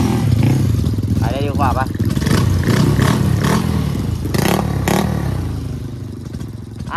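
Honda Wave 110i motorcycle with a 56mm piston, its engine revving loud and close in rough, rising bursts, with someone speaking over it.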